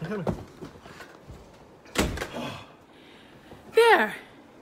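A door thumps shut with a sharp bang amid blizzard wind noise, followed later by another clattering knock, with a voice speaking briefly between.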